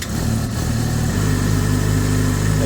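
A brand-new 2016 Yamaha R6 motorcycle starts on a cold day and settles into a loud, steady idle, its engine rumble close and continuous with no talking.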